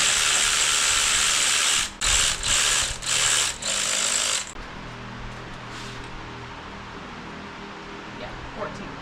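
Ratchet clicking as a 12 mm socket loosens the alternator bolts on a Mazda RX-7 (FC), a close, loud run of rapid ratcheting broken into several short bursts, then a quiet garage.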